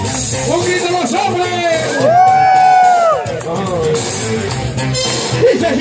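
A crowd of men at a Salvadoran Clown Day show roars and shouts together. The sustained, loud yelling peaks in the middle and then settles into a lingering crowd murmur.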